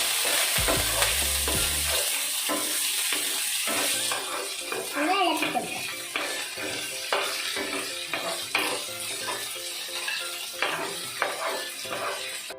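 Green chilies fry in a hot pan for semiya upma, a steady sizzle broken by frequent metal clinks and scrapes of stirring, with a few voice-like sounds briefly present and no talk evident.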